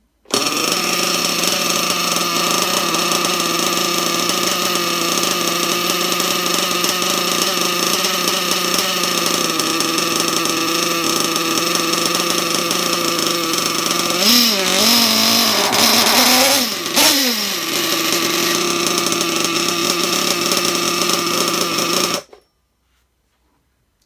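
A small nitro RC engine fired with a glow starter after sitting with after-run oil buzzes loudly and steadily at a high pitch, wavers through a couple of brief revs midway, then cuts out abruptly.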